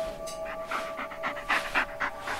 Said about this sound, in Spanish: Just take the damn dog, Ellis.